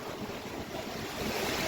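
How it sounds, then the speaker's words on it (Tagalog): Strong typhoon wind from Typhoon Paolo roars steadily on a rocky shore with broadband rushing and buffeting against the microphone, a constant gusty blast that swells slightly toward the end. "Malakas na rin yung hangin dito."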